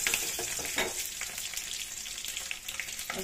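Curry leaves frying in oil in a pan for a stuffed brinjal curry, a steady close sizzle and crackle with a few soft stirring scrapes, quieter toward the end.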